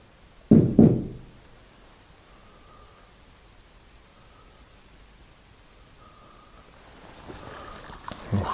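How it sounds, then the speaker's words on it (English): Two sharp knocks on a surface sound close together near the start of a quiet paranormal investigation at Bordesley Hall, followed by a long hiss of still room noise and faint distant tones, with soft rustling toward the end. "Could you knock like this?"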